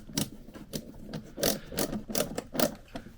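Screws are driven into the plastic seat of a Ricco S2188 kids' ride-on car, a close series of rhythmic ratcheting clicks and scraping turns repeating in quick bursts with no voices.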